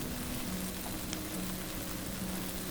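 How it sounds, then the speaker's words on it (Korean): Minced meat stir-frying in a pan, a steady close sizzle with faint stirring, quiet and continuous, no talk. "마지막으로 다진 고기를 넣고 볶으면 완성!"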